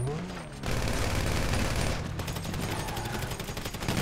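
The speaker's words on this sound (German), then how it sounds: "Ah, ich schieße die ganze Zeit vor die Wand." Rapid gunfire rattles through a shootout in the video game GTA V, dense bursts of shots in quick succession, loud and sustained with a brief lull before the firing resumes.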